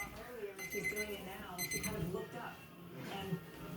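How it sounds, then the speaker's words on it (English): A laundry timer's alarm beeps in short repeated bursts over a person talking close by. "oh shoot, my timer's going off"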